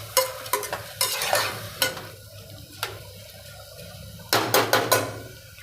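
Ingredients for palak paneer rice are mixed with sharp, repeated stirring and scraping strokes in short bursts, pausing briefly, then a fast cluster of scrapes near the end, close and clear over a low sizzle.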